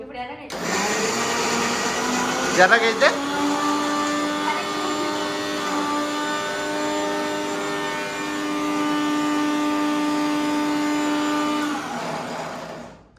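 A mixer grinder whirs steadily for about twelve seconds, blending ingredients for a stuffed brinjal curry in the Andhra style. A loud, even motor hum runs throughout, with a brief clatter near the start, while people talk over it.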